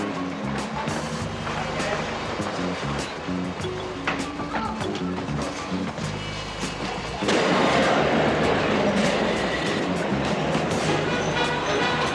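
An underground train runs in a busy London station near Terminal 3, a steady rumble and hiss that swells louder and rougher about halfway through and keeps going with no voices.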